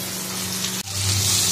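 Spice paste with mustard sizzles in a frying pan as a little water is splashed in, giving a steady hiss that briefly drops out and then returns louder and fuller.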